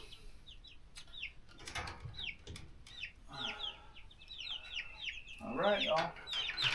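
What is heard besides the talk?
Nankin bantam chickens clucking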